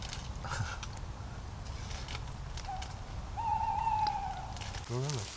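An owl gives a wavering hoot in a quiet ancient forest at night, with faint background noise and a brief low rustle or vocal sound near the end.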